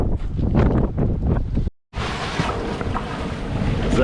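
Strong wind of about 35 knots roars over a sailboat lying at anchor, a dense, loud, unbroken rush that cuts out for a moment and then comes back just as hard.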